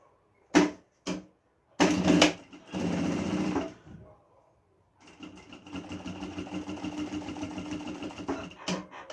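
A sewing machine stitching a seam on a fabric document holder: a few short bursts and handling knocks at first, then a steady whirring run of stitching, close and alone with no talking.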